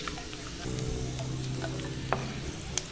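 Dried fish (daing) frying in a pan, a steady close sizzle with a low continuous hum and a couple of sharp pops or utensil clicks near the end.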